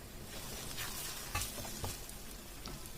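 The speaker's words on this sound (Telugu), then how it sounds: "ఇలా వేసుకొని మెల్లిగా కలుపుకోవాలి." Stuffed brinjal masala curry is stirred slowly in a pan, with a soft continuous sizzle and faint scrapes and clinks of a spoon, fairly quiet and close.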